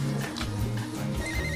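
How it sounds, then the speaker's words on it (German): A telephone rings in a German crime film set in Hamburg, a rapid warbling electronic trill repeated in quick bursts, loud and close over a low background hum, with no talking. "Dein Telefon!"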